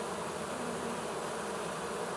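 A swarm of honey bees gathered on a safety cone buzzes in a dense, continuous drone, wings fanning close by, with no voices over it.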